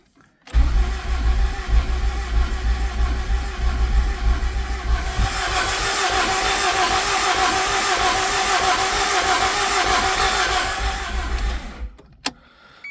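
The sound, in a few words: Honda F20B engine cranking over and running after engine swap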